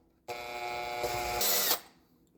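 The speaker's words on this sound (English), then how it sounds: "I'm going to drill a small hole through this piece of cork" A small power drill starts abruptly and whines steadily while boring a small hole through a piece of cork. The tone climbs as the bit breaks through, then the motor cuts off and spins down.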